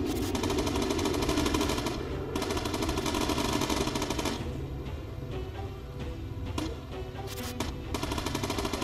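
Machine guns on a bomber aircraft in the game Bomber Crew fire in dense, sustained rattling bursts, loud and continuous, then taper off into more scattered volleys.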